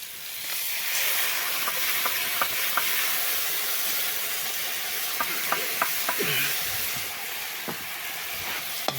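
Ginger-garlic paste fries in a pan for a chicken dish, giving a constant, close sizzling hiss with scattered clicks and scrapes from stirring.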